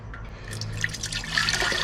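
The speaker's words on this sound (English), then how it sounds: "what I may have to do is pour it into this bigger beaker" Liquid poured from a gold recovery stock pot into a larger beaker, a steady trickling and splashing stream with small drips, close and moderately loud, with no talk over it.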